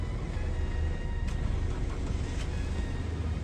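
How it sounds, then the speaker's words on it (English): A Vauxhall Corsa car engine runs steadily, giving a continuous low rumble at moderate volume with no talking. "Does the engine sound fit?"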